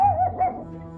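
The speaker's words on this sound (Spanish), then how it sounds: "El perro ha ladrado" A dog barks indoors, a couple of short muffled barks in quick succession at the start, fairly close and moderately loud, with no talking over it.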